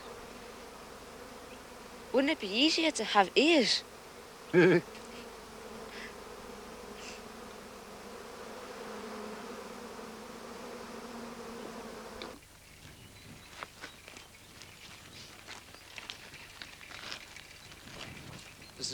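Bees buzz softly and steadily on the hive comb, a low continuous drone running under a voice and some brief knocks.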